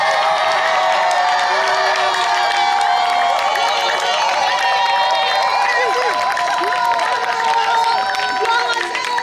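A church congregation cheers loudly and applauds for Jesus Christ, a dense sustained roar of voices and clapping that fills the space at close range without letup.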